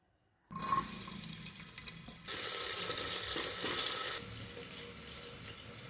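Eggplants are washed in salted water under a running tap: a sudden gush of splashing water, growing louder midway, then settling into a steadier trickle, close and with no talking.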